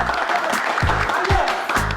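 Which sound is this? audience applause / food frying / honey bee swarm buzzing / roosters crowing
audience applause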